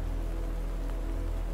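Steady rain patters and hisses evenly for a calm bedtime-story ambience of an autumn night, soft and unbroken, with no voices.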